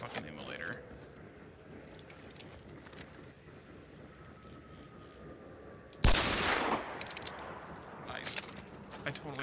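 Gunshots ring out in the Hunt: Showdown video game as a sudden loud crack and burst of echoing report, followed by scattered further shots amid ambient game sounds and faint birdsong, with a person talking.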